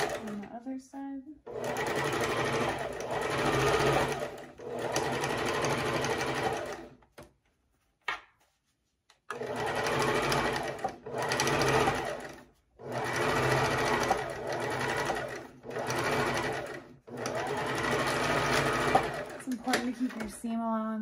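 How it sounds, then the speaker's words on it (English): Sewing machine stitching a fabric face mask with interfacing, running in several long bursts of rapid, steady whirring with short pauses between runs; a person talks over the stitching. "you want to push the fabric down to the machine sometimes to hold it in place"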